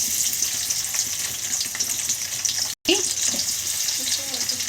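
Onions and green chillies frying with cumin seeds in hot oil for a potato and pea curry, giving a steady, loud, close sizzle that drops out for an instant.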